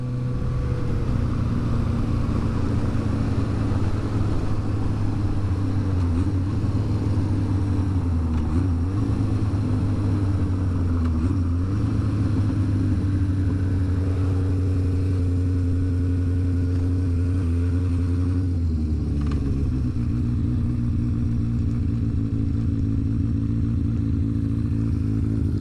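An old project vehicle with cobwebs still on it rolls into a small church parking lot, its engine droning steadily up close with a low rumble and a few shifts in pitch as it slows and maneuvers.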